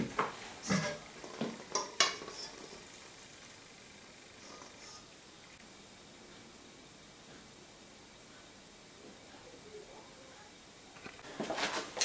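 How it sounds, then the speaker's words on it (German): An omelette fries in sunflower oil in a pan, giving a soft, steady sizzle under clinks and scrapes of utensils at the start and end. "Und jetzt kommt es in die Bratpfanne."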